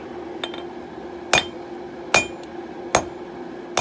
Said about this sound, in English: Just start by forging out a square taper.